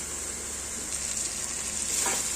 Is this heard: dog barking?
no